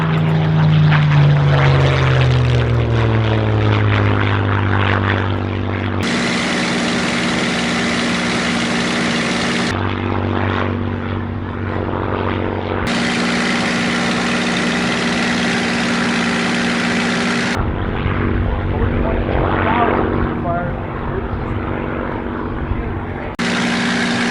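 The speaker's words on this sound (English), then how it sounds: "That burble is the Corsair's wake turbulence." A Spitfire's piston engine drones loudly and continuously in flight while flying in a Corsair's wake turbulence, its tone shifting abruptly between sections, with a voice talking over it.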